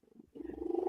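A cat purring close by, a steady low rumbling that swells and grows louder after a short quiet gap, with no talk over it.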